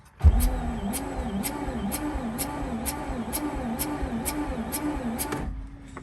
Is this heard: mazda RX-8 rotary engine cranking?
yes